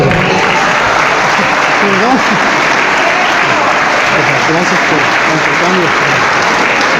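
Loud, sustained applause from a church congregation fills the whole stretch without pause, with faint voices and cheers mixed into the dense clapping.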